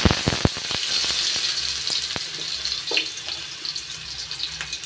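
Potatoes hit hot mustard oil in a pan and sizzle, a close bright hiss with a burst of crackles and pops at the start that settles into steady frying.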